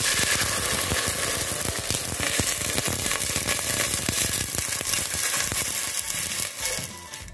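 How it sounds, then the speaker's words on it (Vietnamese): Water is poured into a hot pot of fried lemongrass, giving a loud, continuous sizzling hiss with crackling pops that run throughout and ease slightly near the end. "Giờ mình đổ nước vô đây."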